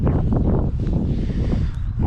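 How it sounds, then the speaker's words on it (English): Steady gusting wind by the River Thames on a winter day, buffeting the microphone with a loud, continuous low rumble and rustle throughout. "It's a bit windy."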